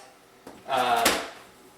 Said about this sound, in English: you're going to have to take out this shelf and the deli drawer